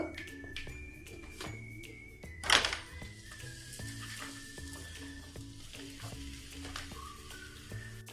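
Pumpkin chapati fries in a little oil on a hot tawa with a steady low sizzle, overlaid by clinks and a sharp thunk of a utensil partway through, and faint background tones throughout.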